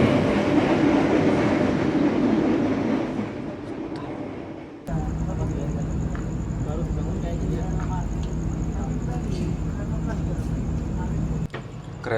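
The Gaya Baru Malam economy passenger train runs on the rails with a steady rolling rumble and rhythmic clatter, heard loud from onboard, with people talking under it.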